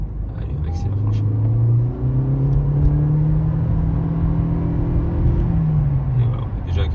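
A Toyota C-HR GR Sport hybrid accelerates hard from about 90 km/h, its engine drone rising steadily in pitch under a road rumble, heard from inside the cabin with no talking over it.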